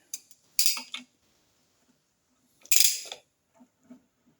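Primary drive and clutch of a Triumph Trident T160 turned over gently by hand, giving two short bursts of metallic clicking and rattling from the chain and clutch, separated by quiet, with faint soft knocks afterward.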